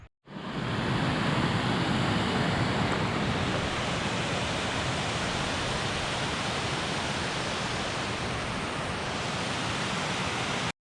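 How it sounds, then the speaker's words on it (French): Big waterfall cascades on a mountain hike around the Ayous lakes roar as a loud, even, unbroken rush of white water, steady for the whole stretch with no voices. "Il y a des big cascades."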